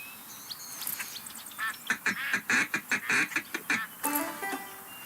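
Ducks quacking in the Duck Dynasty hunting video game, a run of loud, rhythmic quacks repeating in quick bursts near the listener, with a softer duck call trailing at the end.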